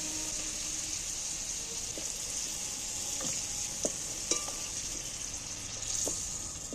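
Potatoes frying in prawn oil in a pan while cooking a jackfruit curry, with a soft continuous sizzle and a few light scrapes and clinks of a utensil stirring, fairly quiet and without talk.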